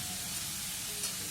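Eggplant pieces frying in a pan with vegetables for a Bengali chorchori, a steady close hiss of sizzling oil throughout with no talking.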